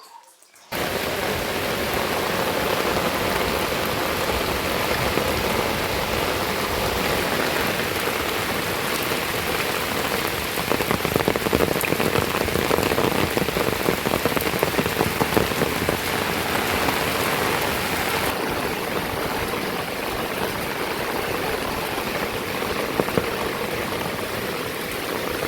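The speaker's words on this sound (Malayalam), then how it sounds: "നല്ല മഴ കേട്ടോ പെയ്ത്, നല്ല ചുവന്ന വെള്ളം." Heavy rain pours down steadily for the whole stretch, a dense, loud, unbroken hiss of drops drumming on surfaces, close and continuous with no voices.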